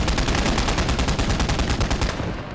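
Rapid, evenly spaced heavy shots from an anti-tank rifle and other weapons in a WWII battle game set during Operation Spring Awakening, a loud, dense rattling barrage that fades out at the end.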